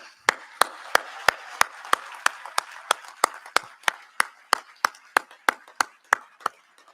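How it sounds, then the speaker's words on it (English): A single pair of hands claps at a steady, slow rhythm, about twenty sharp distinct claps alone in a quiet setting, offered as applause for new citizens at an Independence Day naturalization ceremony at Monticello. "I'd like to salute you by offering you a hearty round of applause."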